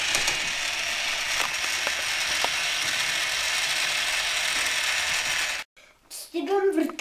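A Bosch Klein children's toy cordless screwdriver whirs with a steady ratcheting, geared buzz for several seconds, close and fairly loud, then stops abruptly before a few brief handling sounds.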